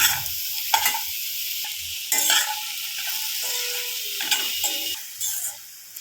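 Sliced mushrooms sauté with salt in a pan for cream of mushroom soup, with a gentle sizzle and repeated scraping, clicking strokes of a stirring utensil heard up close.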